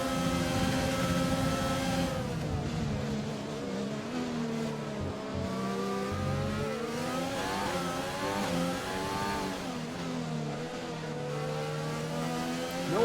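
Formula 1 race cars in the F1 2020 video game roar around a virtual US circuit, their high-pitched engines rising and falling as they accelerate and shift, a loud, continuous drone with sweeping pitch changes.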